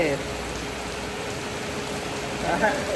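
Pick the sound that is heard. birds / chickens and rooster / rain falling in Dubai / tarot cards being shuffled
rain falling in Dubai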